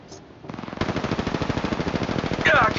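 Rapid automatic weapon fire in the battle royale game Apex Legends played on an iPhone XR, a dense, continuous stream of loud shots that starts after a brief quiet moment and keeps going steadily.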